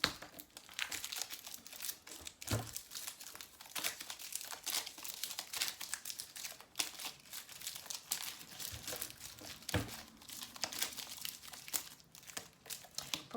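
Tarot cards shuffled and handled close up, a continuous papery crinkling and riffling with scattered sharper flicks and snaps, steady throughout with no talking.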